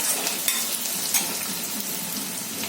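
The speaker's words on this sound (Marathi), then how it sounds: "आता कांदा होत आला थोडा मऊ झालाय हे आता भाज्या घालते याच्यामध्ये" Vegetables go into softened onions frying in a pan, making a continuous close hiss and sizzle with a few light clicks of stirring, with no voices.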